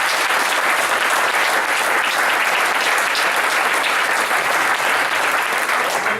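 A festival audience breaks into loud, sustained applause, dense continuous clapping filling the room from start to finish, with no voices rising above it.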